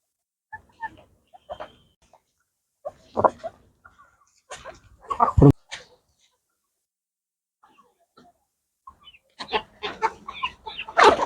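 Hens cluck in short scattered bursts, close by, with pauses of quiet between them and a busier flurry of clucks at the end, as they eat feed.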